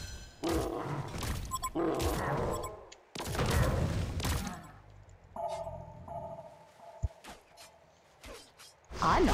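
Flint Beastwood's gunshots ring out in a video game, several sharp, loud blasts in quick bursts with a whooshing tail, followed by quieter game chimes and a single thump.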